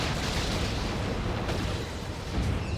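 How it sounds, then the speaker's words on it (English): Heavy D-cannon artillery barrage in the real-time strategy game Warhammer 40,000: Dawn of War 2, a dense, continuous roar of booming blasts that fills the whole stretch with no voices. "Triple D cannons now for Zorander"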